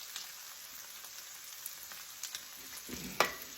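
Corn sizzles and fries steadily in a hot pan, a soft continuous crackle with a few stirring scrapes and clicks near the end, no talking.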